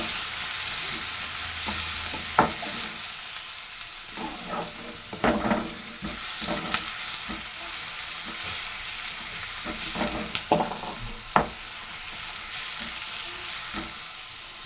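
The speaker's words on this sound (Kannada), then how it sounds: "ಈರುಳ್ಳಿ ಹಾಕ್ಕೊಂಡು ಒಂದು 5 ನಿಮಿಷ ಹುರ್ಕೊಬೇಕು" Onions fry in a pan of oil after mustard seeds, giving a continuous close sizzle with spatula scrapes and taps scattered through it and no talking.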